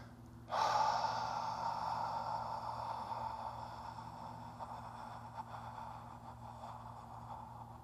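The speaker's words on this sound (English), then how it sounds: "very gently but fully inhale through your nose" One slow, full inhale through the nose during a breathing exercise, starting abruptly and then drawing out as a long, airy, close breath against a faint low hum, with no speech.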